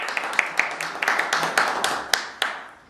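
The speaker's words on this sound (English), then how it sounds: "I think that deserves a round of applause" Scattered hand claps from a small group, irregular and fairly close, thin rather than a full crowd, ringing out for a few seconds.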